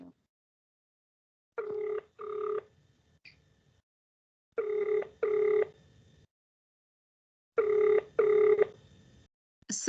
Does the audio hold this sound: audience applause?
no